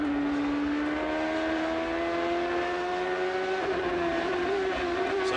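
Champ Car race cars with Ford Cosworth engines racing at Brands Hatch in 2003, a steady high-pitched engine whine rising slightly in pitch, with several cars blending in a constant loud roar.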